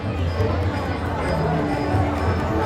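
A dense crowd of devotees at the Kunkeshwar temple fair fills the air with steady babble and chatter, a continuous hubbub close around, with no single voice standing out.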